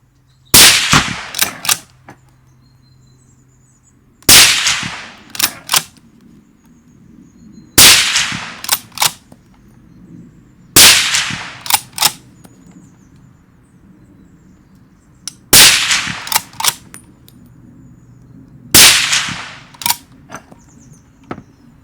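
Six loud, sharp rifle shots from a Savage Impulse Elite Precision straight-pull bolt-action rifle, spaced about three seconds apart, each followed by quick metallic clacks of the bolt being cycled.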